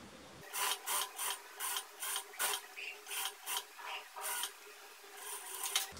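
A sewing machine stitching small and large fabric ruffles together for a blouse, running in quick repeated bursts of mechanical whirring, close and clear, with short pauses between bursts.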